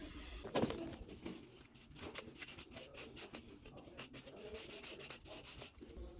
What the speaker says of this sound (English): you're just going to go ahead and hit it with the wood float again